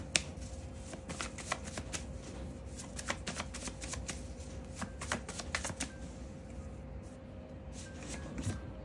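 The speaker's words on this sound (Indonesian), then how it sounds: "aku shuffle dulu kartunya Asmara Leo" A tarot deck is shuffled by hand close up in quick, irregular papery flicks and riffles that run almost continuously, with no speech.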